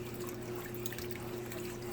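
Broth pours steadily into a meat sauce for spaghetti, a continuous soft trickle and splash with a low steady hum underneath, fairly faint and without talk.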